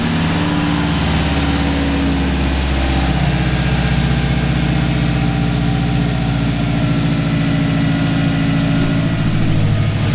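A turbocharged Subaru WRX, the Hawkeye generation, runs steadily on a dyno with a loud, continuous low engine drone and strong rumbling harmonics that hold nearly constant throughout, with no talking.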